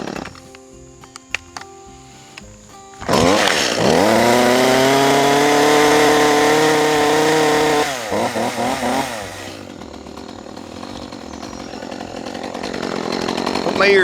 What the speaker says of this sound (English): I'm going to use my little saw to make these cuts